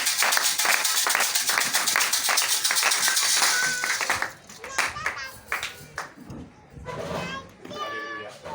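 A church congregation clapping in acclamation at a prayer service, fast loud rhythmic clapping for about four seconds that then breaks off as voices take over, with scattered claps under the talk.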